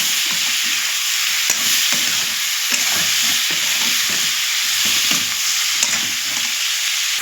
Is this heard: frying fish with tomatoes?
yes